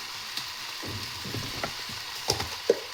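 Okra (bhindi) frying in oil with turmeric in a pan, heard as a quiet sizzle with soft stirring scrapes and a few sharp clicks near the end, with no talking.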